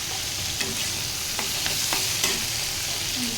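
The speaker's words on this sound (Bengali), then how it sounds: "বন্ধুরা এখন আমি আলুগুলো ভালো করে ফ্রাই করে নেব" Potatoes fry in a pan with turmeric powder, giving a continuous dense sizzle close up, broken by a few sharp clinks and scrapes of stirring.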